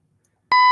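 Sprinkler system alarm sounding indoors: after a brief silence, a sudden loud, piercing electronic beep tone starts and holds steady to the end.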